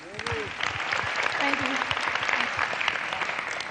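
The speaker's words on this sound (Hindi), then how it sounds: "बच्चों ने बहुत ताल में ताली बजाई" Children clap in rhythm at a school gathering, a dense run of fairly steady, close claps with a short tonal vocal or musical sound near the start.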